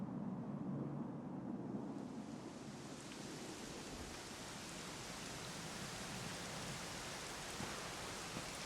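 Steady rain in Dragon Quest 11 S, a soft continuous wash of falling drops with no breaks, heard alone and fairly faint throughout.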